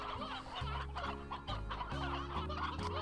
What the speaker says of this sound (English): Those two roosters are going to be very happy.